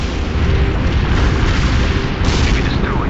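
Artillery strike in the game World in Conflict: Soviet Assault, a dense, continuous roar of heavy booming explosions that stays loud and close the whole time, with a brief fresh surge partway through.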